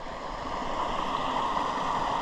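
Continuous rushing of Mill Creek water flowing steadily over rocks, close and fairly loud, with no voices.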